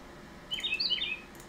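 Short burst of digital bird chirps from a board game app, a quick cluster of bright tweets lasting about a second over a quiet background.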